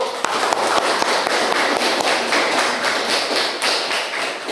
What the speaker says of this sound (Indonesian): Kasih aplaus untuk kelompok 1.